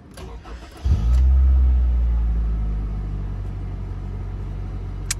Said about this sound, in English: So then we'll start the car and see if it worked.